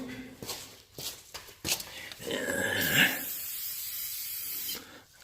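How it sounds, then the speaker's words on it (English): Brake cleaner sprayed onto the front brake caliper of a Mercedes-Benz S320 W140 with the pads removed: a steady aerosol hiss lasting a few seconds after some handling clatter, fairly close and moderately loud. "So let's just spray a little cleaner in there."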